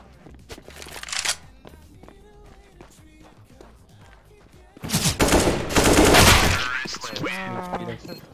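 Gunfire in an online tactical shooter match, with scattered sharp shots and a dense burst of rapid fire midway, while players talk over the action.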